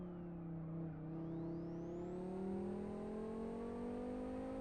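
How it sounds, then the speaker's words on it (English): A five-cylinder race car engine in the racing game Live for Speed, much like an Audi Quattro, holds a loud steady drone with its pitch slowly rising as it accelerates, and no one talks. "Lovely 5-cylinder noise from this particular car. Kind of Audi Quattro-esque."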